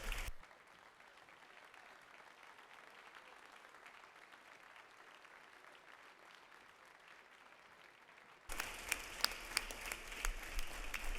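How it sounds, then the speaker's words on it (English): A faint, steady patter of applause fills the House chamber during a state legislative session, then gives way abruptly to louder, sharper clapping near the end. "Let's give them another round of applause."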